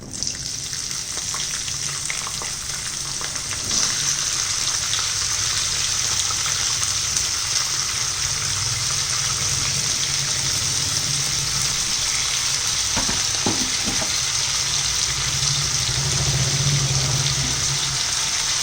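Potatoes frying in a pan for an aloo pyaz sabzi give a steady, loud sizzle and hiss that runs unbroken throughout, with a few faint clinks partway through.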